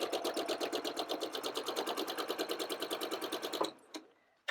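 A sewing machine stitches quilt block pieces together in a steady rapid rhythm of needle strokes for several seconds, then stops, followed by a couple of faint clicks.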